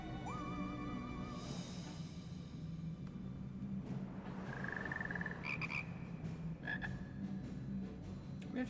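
Wizard frogs in Final Fantasy XIV croaking in a steady low chorus, mixed with game sound effects including rising tones and short chimes, all fairly quiet and with no talk.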